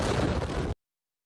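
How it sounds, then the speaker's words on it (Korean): Beirut port explosion from news footage, a massive blast heard as a loud, dense roar that holds for under a second and then cuts off sharply. "1차 폭발로 거대한 회색 연기 기둥이 하늘로 솟아오르고 불과 몇 초 뒤 이와 비교할 수 없을 정도의 엄청난 폭발이 이어집니다."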